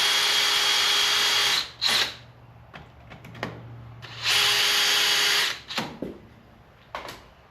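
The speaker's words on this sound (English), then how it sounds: "We might need to drill deeper." A power drill whirs in two long loud bursts with short trigger pulls between them, drilling into a bolt on a 1950s Ford 8N tractor, close up, ending in a few quick spurts.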